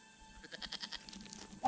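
Goat bleating in the video game Broken Sword 5: The Serpent's Curse, a quick run of short, nasal bleats at moderate volume over quiet game ambience, with no talking.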